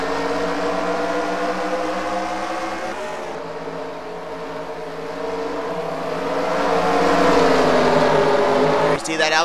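Stock cars roaring off the green flag start at Bristol in a racing video game, a dense sustained engine drone that swells and builds in loudness toward the end, with a voice talking over it.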